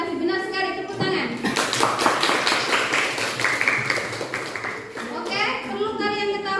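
A classroom of students claps together for several seconds during a chemistry lesson on corrosion, the rapid, close clapping framed by a teacher's voice speaking before and after.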